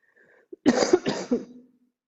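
A person coughs a few times in quick succession, close by, with a short throaty burst and a softer trailing sound at the end.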